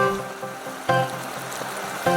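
Rainwater spilling over from a roadside gutter during a typhoon in Kawasaki, a steady hissing rush of water close by, with a couple of louder splashy surges and no talk.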